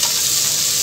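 Chopped onions sizzling in hot oil in a pan while cooking a South Indian lunch, a steady close, bright frying hiss throughout with no talking.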